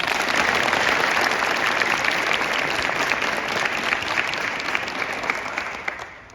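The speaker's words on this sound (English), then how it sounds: "Let's give them another round of applause." Dense, sustained applause from a large audience at a high school athlete signing day fills the room steadily, then tapers off toward the end.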